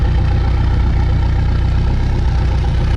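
A Ford SVT Lightning pickup with a fully custom exhaust idles steadily up close, giving a continuous low, burbling rumble with no voices.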